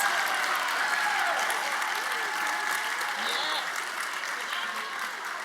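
Applause from an audience at a university school of social work awards and promotions celebration, a steady, dense round of clapping filling the room throughout, with a voice faintly audible beneath it.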